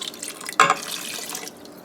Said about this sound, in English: So 3 cups of water is added here now